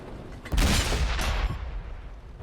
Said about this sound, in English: I take a few sloppy shots here and miss the opportunity to finish off the VK quickly.